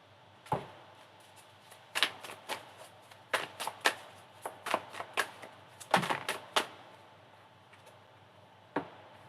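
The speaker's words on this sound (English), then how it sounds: "You literally saw me shuffle this deck" A deck of cards is shuffled by hand in quiet surroundings, giving irregular crisp snaps and riffling clicks that arrive in scattered clusters with short pauses between them.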